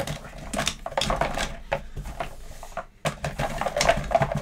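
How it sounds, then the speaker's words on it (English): Cardboard game tiles for the board game Hamsters vs. Hippos swirled around inside a box top, giving a close, irregular clattering and rattling that pauses briefly and then resumes. "I'm going to take all the tiles and I'm going to put them into the box top. And I'm going to swirl them around."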